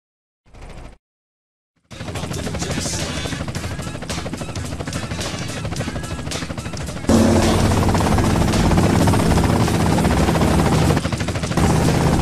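Helicopter in the video game GTA San Andreas, a loud continuous rotor chop that comes in after a short burst and silence, then grows heavier midway and runs steadily to the end.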